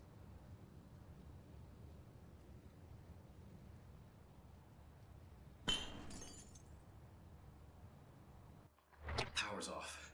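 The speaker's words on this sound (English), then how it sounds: "Need to break the glass." Glass breaking in the video game The Classrooms: a sudden sharp shatter cuts through quiet ambient hum. A second burst of crashing and clinking follows near the end.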